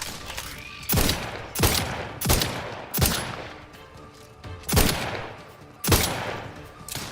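Gunfire in The Outer Worlds 2 on its hardest difficulty: six sharp, loud shots or short bursts spaced roughly a second apart, each decaying quickly, over a low background of game ambience.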